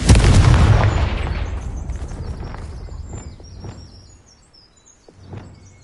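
A loud fiery blast from the Confringo spell in Hogwarts Legacy, a big booming burst that decays over about two seconds, followed by faint crackling pops and a smaller thump near the end.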